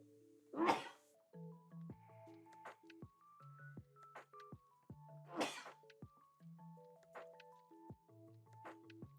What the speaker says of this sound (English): Man, I'm already sneezing.